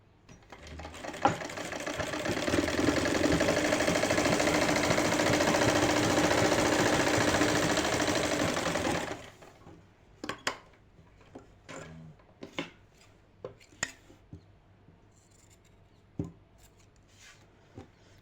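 A sewing machine stitches piping along a shirt seam at the hip, running in one close, continuous burst for about nine seconds, then stopping, followed by scattered soft clicks and handling noises of the fabric.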